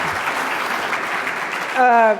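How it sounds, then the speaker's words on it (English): An audience at an industry keynote applauds, a dense, steady clapping that fills the room before a voice begins speaking at the end. "I think we should all clap for that."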